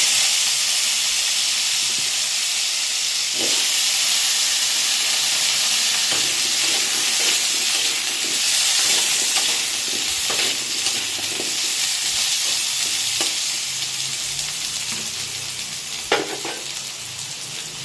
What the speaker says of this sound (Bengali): এবার আলুগুলোকেও লাল লাল করে ভেজে নেব।